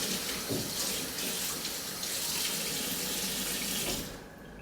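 Steady tap water runs hard into a kitchen sink while food is rinsed away, a loud continuous broadband gush heard alone that cuts off near the end.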